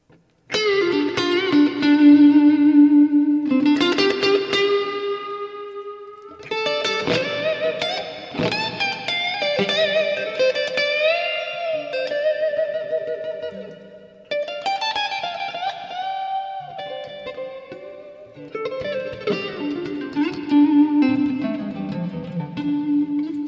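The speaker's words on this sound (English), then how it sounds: "I love this guitar, man, because it just has this certain sound" Fender Stratocaster electric guitar played alone in loose, noodling phrases, with sustained chords and single-note lines ringing through light effects and reverb, steady and fairly loud throughout.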